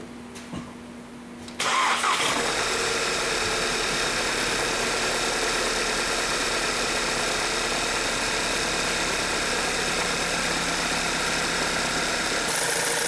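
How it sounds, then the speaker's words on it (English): A car engine being started during in-cylinder pressure testing, a brief crank that catches abruptly and then settles into a steady, loud, continuous idle with a slight knocking texture. "I'm going to start the engine and see what happens"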